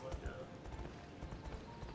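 Hoof clip-clops from a horse in the Wii game I Love Horses: Rider's Paradise, a steady rhythmic trot running under continuous talking and game background sound.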